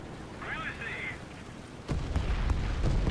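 Aircraft gunfire from a strafing run in War Thunder, rapid heavy bursts and thuds starting partway through, following a brief stretch of speech.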